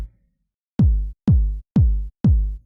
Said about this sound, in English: So we've clicked on a new kick.